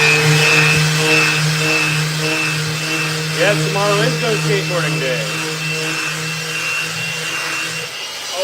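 An orbital sander shapes two skateboard decks in a workshop, giving a steady, loud electric whir that runs through the whole clip beneath a voice.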